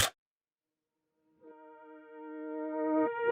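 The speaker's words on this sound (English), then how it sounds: "The next thing I added was this reverse sound as well from the drip bank in Arcade." After a short burst and a pause, a reversed synth tone from the drip bank in Arcade in FL Studio swells steadily louder and cuts off abruptly at its peak.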